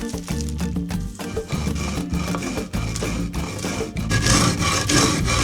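Corn kernels stirred and scraped as they toast for pinole, producing a steady, dense rasping and rubbing close by with rhythmic strokes and no voices.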